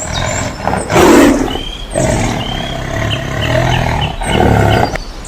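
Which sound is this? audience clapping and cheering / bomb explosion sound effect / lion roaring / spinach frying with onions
lion roaring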